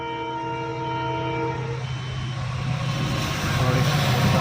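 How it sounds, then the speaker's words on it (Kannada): A train approaches a railway level crossing near Birur with its gate down, a long sustained horn blast fading as a growing rumble of the passing train takes over, loud and close. "ಮೋಸ್ಟ್ಲಿ ಬಂತು ಅನಿಸುತ್ತೆ ಟ್ರೈನು"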